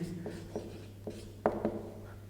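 A marker or chalk writes a statement on a board in short, faint scratches and taps over a steady low hum, with a slightly firmer pair of strokes near the end.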